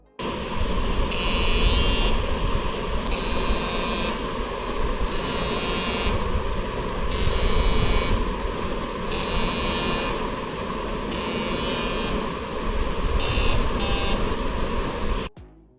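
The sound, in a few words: Nothing Phone 1 vibration motor buzzing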